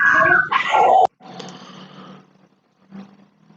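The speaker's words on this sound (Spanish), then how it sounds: "el perrito no lo dejo escuchar" A small dog growls and barks close by in a loud burst during the first second, then quieter rough noises and a faint yip follow, with brief silence between.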